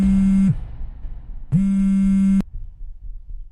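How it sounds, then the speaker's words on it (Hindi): An electronic phone ringer sounds in two long, loud buzzing bursts separated by a short pause, with low room noise between them. "निखिल का फोन।"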